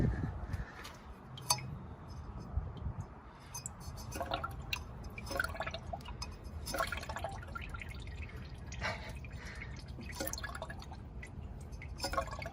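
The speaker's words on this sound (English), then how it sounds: "You can hear it gurgling in there." Faint liquid gurgling and irregular drips of coolant trickle inside the water pump of an old MGB's cooling system, with scattered small clinks over a low background hum, no speech.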